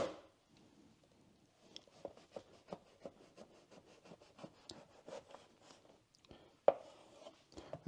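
A small ceramic knife saws through bread with a series of quiet, rhythmic scraping strokes, close by, ending with a sharper crunch near the end.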